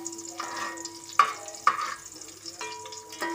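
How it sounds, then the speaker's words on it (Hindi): Onions sizzle in a pan while being stirred for a rice dish, a steady close frying hiss with a few louder scrapes of the spoon, heard alone without talk. "प्याज पिंक हो रही है हमारी।"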